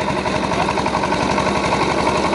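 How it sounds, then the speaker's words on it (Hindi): A 7 HP engine runs steadily on a homemade jugaad reaper machine built for cutting fodder crops, a loud, close, continuous chugging drone with no speech. "देखिए आप ये 7 HP का इंजन लगा हुआ है"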